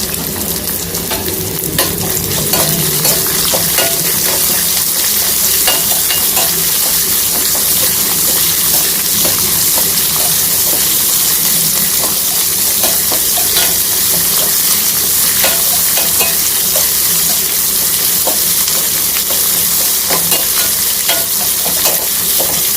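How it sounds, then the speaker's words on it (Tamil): Onions and shallots fry in a pan for a tomato garlic chutney, giving a loud, continuous sizzle with frequent stirring scrapes throughout. "வெங்காயம், சின்ன வெங்காயம் நல்லா கூட போட்டுக்கோங்க."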